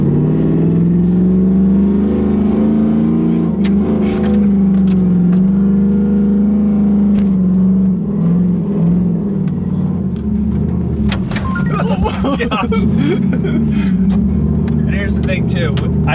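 A four-wheel-drive truck with no power steering labours off-road, its engine droning loud and close and rising in revs, with rattling and clunks toward the end and people talking over it.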